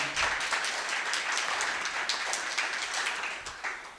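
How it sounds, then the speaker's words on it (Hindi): An audience at a Hindi poetry recital claps loudly and continuously, a dense wash of applause that holds steady for several seconds before tapering slightly. "जोरदार तालियों से आपका आशीर्वाद मिल जाए"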